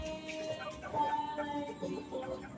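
A Boston Roundhead gamefowl chicken clucking up close, a few short throaty clucks over faint background noise.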